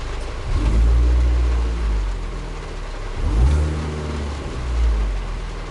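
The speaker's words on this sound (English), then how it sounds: "I'll give it a few little revs." A supercharged 2004 Mini Cooper S (R53) engine revs up hard a few times, each rise swelling into a throaty roar and then settling back to a rumbling idle.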